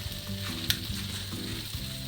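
Meat searing on a barbecue grill with lava rocks, a loud, steady sizzle that carries on without a break and has no voices over it.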